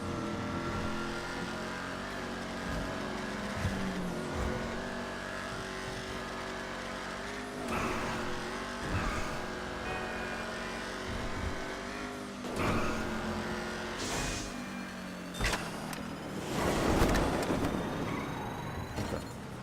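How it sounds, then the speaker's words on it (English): A fully modded Ruiner 2000 car in a video game races at high speed, its engine droning and revving steadily with gear shifts, tire squeals and passing whooshes, loud and continuous throughout. "Now I'm gonna just give you an idea how fast this car can go."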